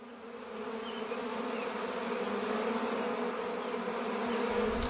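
Cartoon bees from The Simpsons swarm with a steady, dense buzzing drone that holds throughout, moderately loud and unbroken, with no voices.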